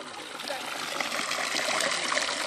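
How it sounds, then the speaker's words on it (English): Water runs steadily from the first village tap, fed by a solar-powered pump system in Gambia, a continuous close trickling and splashing stream at moderate level. "This is the first and only water tap in the village."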